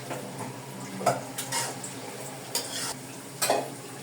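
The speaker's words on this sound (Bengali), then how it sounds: "শুকিয়ে পুরো ভাজা ভাজা করে ভাজিটা করে নিব" Cabbage being stir-fried dry in a pan, a soft close sizzle broken by several scraping strokes and light clinks as a spatula turns it over.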